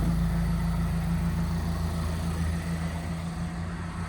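Engine and exhaust of a Mazda Miata ND2 fitted with an Edelbrock supercharger and Racing Beat catless midpipe, a steady low idle drone held close and loud throughout without revving or speech.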